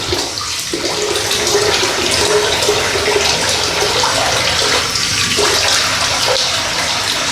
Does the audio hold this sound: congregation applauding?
no